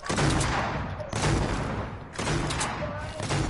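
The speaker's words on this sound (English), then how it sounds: "Why are you shooting them?" Video game gunfire in three dense, loud bursts of rapid shots with booming low rumble, continuing almost without pause.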